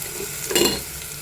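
Ginger garlic paste frying and being stirred in hot spiced oil for masala rice, a soft steady sizzle with a brief louder scrape of stirring near the middle.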